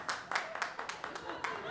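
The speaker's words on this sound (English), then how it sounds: "Clap if you're a single man here tonight." A small comedy-show audience claps in scattered, uneven bursts, about five or six separate clusters of claps spread over a couple of seconds, fairly close and moderately loud.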